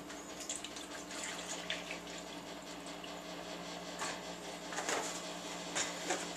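Skim milk pours in a steady, soft liquid trickle into a bowl of watermelon sherbet mixture, a continuous gentle splashing close by with no talking.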